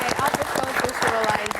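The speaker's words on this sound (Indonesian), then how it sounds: "Kita kasih tepuk tangan." Brief audience applause at a live music talk show, scattered claps mixed with cheering voices and crowd chatter underneath.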